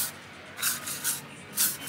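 Hairspray is sprayed onto a pinched section of side bangs for an updo in three short, close hissing bursts with brief pauses between them.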